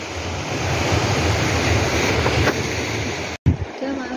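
Ocean waves roll onto the shore at Boulder Beach as a continuous loud roar of surf with gusty wind buffeting the microphone. The sound cuts off briefly near the end.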